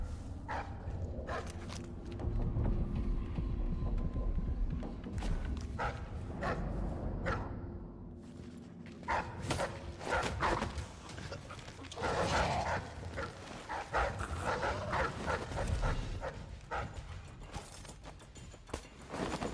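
A dog barks in the Dishonored 2 video game, with scattered sharp barks over scuffing footsteps and low ambient noise, rising into a denser flurry of barking toward the end.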